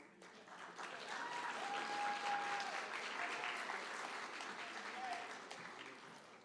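Steady applause from an audience at a high school senior awards night, clapping sustained for several seconds at moderate distance with faint background voices underneath.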